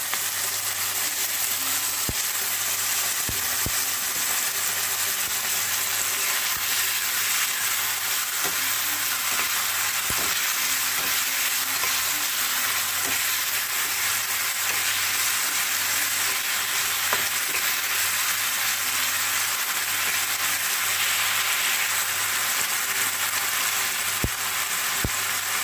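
Chilli fish fries in a pan with sauce in a steady, dense sizzle. The sound runs continuously for about twenty-five seconds, with occasional light clinks and stirring scrapes, close up and without speech.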